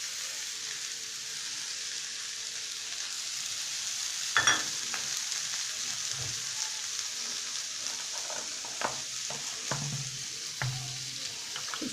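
Sliced potatoes frying in a pan for aloo posto, with a soft, steady sizzle and a few scattered scrapes and knocks of stirring, no voices.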